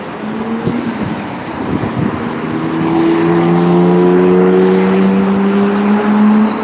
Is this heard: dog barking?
no